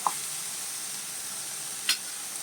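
Prawns fry with masala and onion paste in a steady, fairly loud sizzle that runs throughout, with a short utensil scrape at the start and another near the end; no talking.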